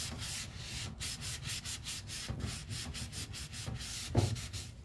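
Cloth rubbing back and forth over a painted wooden piece, wiping off excess Chalk Paint colored wax laid over clear wax, a steady rhythmic scrubbing with regular strokes at close range, no voices.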